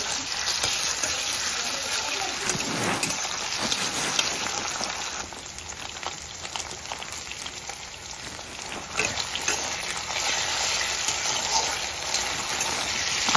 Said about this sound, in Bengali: তো তেলের মধ্যে আলুগুলোকে দেব আর একটু নুন দিয়ে এটাকে ভালো করে ফ্রাই করব।